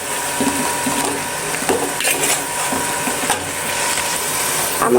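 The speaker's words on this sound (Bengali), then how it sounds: "ভালোভাবে মশলার সঙ্গে মিশিয়ে নিব।" Steamed onion leaves are stir-fried with spices in a pan, giving a close sizzle with irregular scraping and clattering stirring strokes, no talk.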